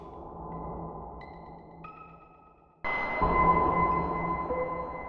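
A Synthstrom Deluge plays a sample recorded at a glacier, mixed with plenty of noise. Sustained airy tones and hiss thicken abruptly partway through into a louder, brighter, steady wash.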